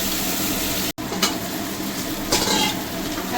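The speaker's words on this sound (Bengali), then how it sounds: "চিংড়ি মাছটা আমি হালকা একটু ভেজে নেব।" Chingri prawns frying lightly in a pan give off a steady, loud, close sizzle, with a brief break and a few soft stirring scrapes. No one speaks.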